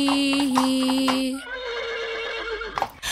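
A cartoon horse's neigh in a children's farm-animal song, a bright, strongly pitched whinny that wavers and falls over about a second and a half, close and loud, with musical backing around it.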